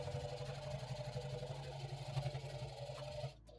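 Sewing machine stitching a fabric magazine pouch: a steady, fast mechanical whir with rapid even needle ticks, close and moderately quiet, stopping abruptly near the end.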